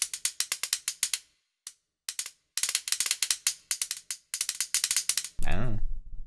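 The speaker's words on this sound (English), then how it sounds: "Spoons!" Spoons percussion from the UVI World Suite sample library plays as rapid, crisp clicking rattles in bursts with short pauses, ending in a brief tonal swell.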